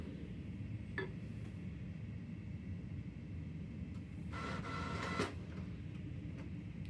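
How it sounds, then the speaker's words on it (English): A printer working beside a Cricut cutting setup, giving a low, steady mechanical whir with a few short clicks and a louder burst of feed noise partway through. "Then I'm going to send it to the printer, and it's printing, or it will momentarily."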